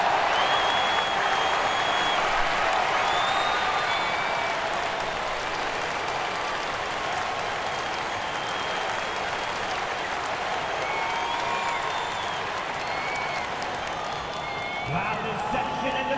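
A large crowd cheers and applauds continuously in an NBA 2K26 video game basketball arena during Memphis Grizzlies vs New York Knicks, a steady roar with whistles and shouts rising and falling throughout.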